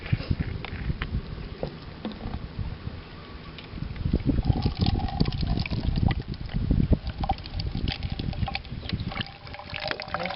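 Water runs steadily across grass-covered soil in an outdoor soil-vegetation runoff experiment, a continuous trickling and splashing wash that builds midway and stays fairly close, with no talking over it.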